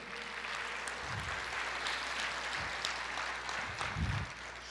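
A church congregation claps along during a sermon, a steady dense wash of applause filling the whole stretch at even loudness, with a few low thumps underneath.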